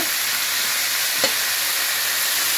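Cauliflower and potato pieces frying in a hot pan, giving a steady, even sizzling hiss throughout, with one brief soft clink near the middle.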